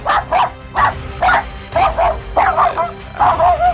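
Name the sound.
dogs barking and whimpering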